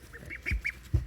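Baby ducks give a quick run of four short, faint quacks, with soft thumps and bumps nearby.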